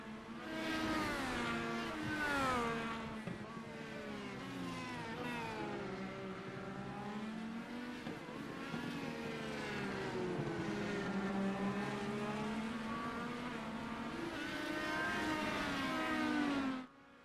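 Several Indy car series race cars battle closely on a racetrack, their engines a loud, continuous high-pitched whine that rises and falls in pitch as they pass and accelerate, filling the whole stretch with no pauses.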